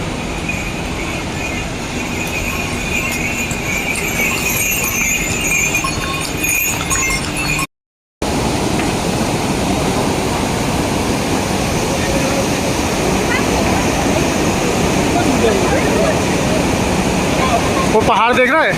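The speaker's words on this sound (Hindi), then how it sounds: "मंदाकिनी नदी।" The Mandakini river rushes loudly and steadily in the mountains on the way to Kedarnath, a broad continuous roar of water that carries on beneath occasional talk.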